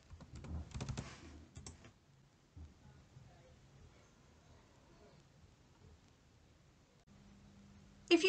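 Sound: typing search keywords on a computer keyboard

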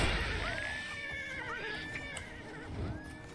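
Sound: horse neighing in video game Oblivion

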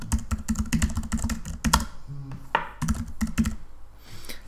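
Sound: typing a name on a computer keyboard

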